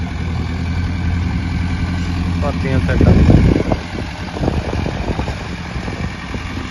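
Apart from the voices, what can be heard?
heavy tractor engine running while land levelling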